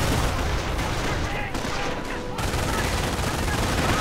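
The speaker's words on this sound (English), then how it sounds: "that MG42 is doing an excellent job of keeping them pinned down" An MG42 machine gun rattles in long continuous bursts in a Company of Heroes World War II battle, dense and loud under a steady wash of battlefield noise, with a voice talking over the gunfire.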